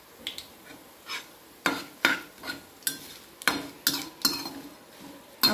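Quiet scraping and tapping of a spatula in a pan as whole spices and cloves for raw mango pickle are stir-fried, irregular soft clinks and scrapes at close range over a faint background.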